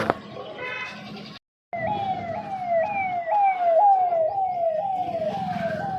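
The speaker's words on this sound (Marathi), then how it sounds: "पोलिसांच्या गाड्या जात आहे." Police vehicle sirens wail past in a rising-and-falling sweep, loud and close, over busy crowd and road noise at the Maha Kumbh gathering in Prayagraj, with a brief dropout before the sirens begin.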